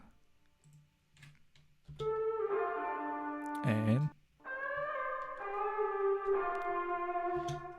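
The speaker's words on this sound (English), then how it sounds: "I also use MIDI guitar" A soloed MIDI guitar line plays sustained, harmonically rich, synth-like notes with a pitch bend, loud and up front after a brief spoken word.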